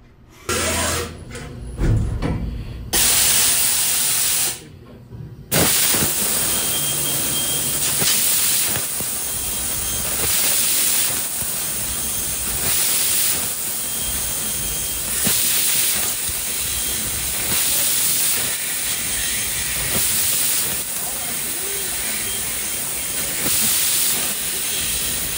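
A US Laser Z-Series laser machine cutting metal tubes gives off a loud, continuous, close hiss with rhythmic surges and pulses, after a few sharp bursts and brief pauses at the start.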